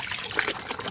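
Cloth lifted from a bowl of plain water during tie-dyeing, with water trickling and dripping back into the bowl in a brief, soft, close-up splashy patter.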